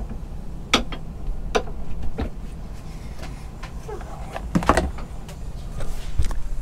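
A few sharp knocks and clunks of a boat's door being handled and shut nearby, with a heavier thud partway through over a low background hum.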